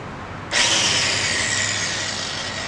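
Small angle grinder spinning up abruptly after a short quiet moment, then a loud, steady high whine held close, used on a rusty Ford Ranchero body.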